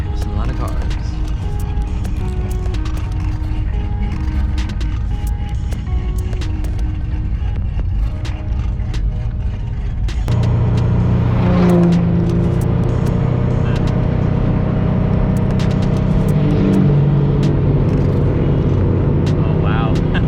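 Diesel car revving at a busy car meet, a loud sustained engine roar that swells and grows heavier partway through, with crowd noise and voices throughout.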